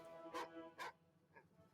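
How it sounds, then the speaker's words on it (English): A dog in the video game Dwarf Fortress gives two quick, faint barks about half a second apart, followed by a softer third yelp, with no talking over them. "Dogs, do not bark for no reason."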